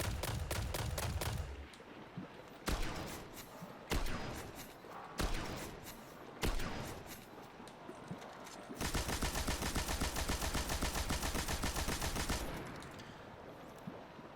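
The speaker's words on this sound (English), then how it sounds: "this is Nothing Manacles reloading" Nothing Manacles reload in Destiny, a run of loud, dense gunfire bursts set between short pauses, ending in a sustained rapid volley before it tails off.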